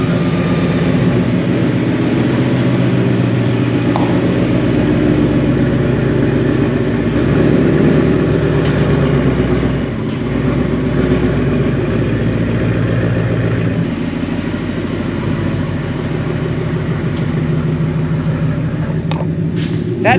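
A car engine fitted with newly installed long tube headers runs at a loud, steady idle close by, a deep rumbling drone that holds for about twenty seconds without talk.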